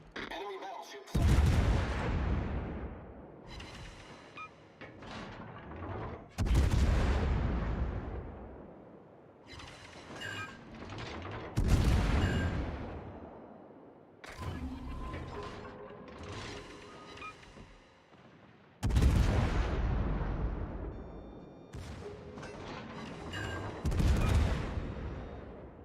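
Heavy naval guns in a battleship video game fire in repeated loud booms about every five seconds, each blast decaying slowly with rumbling tails and smaller impacts between volleys.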